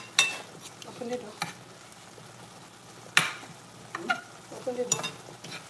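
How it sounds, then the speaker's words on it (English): Garlic and pepper sizzle in a frying pan while a potato pie is cooked, a soft steady hiss broken by clanks of stirring against the pan, with a brief spoken remark over it. "The garlic and the pepper and everything frying up here."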